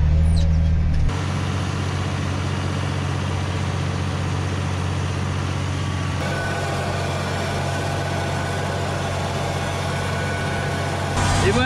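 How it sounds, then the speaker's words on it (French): A tractor guided by an FJ Dynamics autosteer system sows a field after ploughing, its engine a loud, steady low drone throughout, with people talking over it. "on a changé de tracteur. Voilà, on est en train de semer après le labour"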